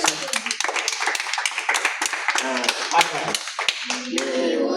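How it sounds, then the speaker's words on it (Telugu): A crowd claps during a house opening prayer right after a ribbon is cut, with bursts of hand claps mixed with voices and children's chatter close by. "చప్పట్లు కొట్టండి అందరూ."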